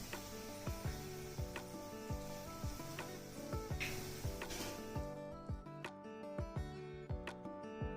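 Crispy onion pakodi fry in hot oil, a steady close sizzle with scattered sharp clicks and taps from a utensil against the pan, no talking.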